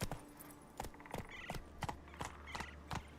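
Horse hooves clip-clop at a steady trot in The Witcher 3: Wild Hunt, about a dozen evenly spaced hoofbeats over a low ambient backdrop.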